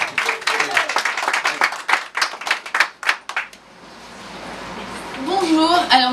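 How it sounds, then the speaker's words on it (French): A small audience at an International Women's Day gathering with a legislative election candidate claps in scattered, uneven bursts for about three seconds, then the clapping stops and a voice begins speaking. "Je voudrais qu'on l'applaudisse."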